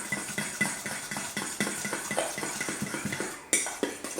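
Zucchini fritter batter beaten in a bowl with a fork or whisk, a quick steady rhythm of light clinks and scrapes against the bowl, close up and alone, with one sharper clink near the end.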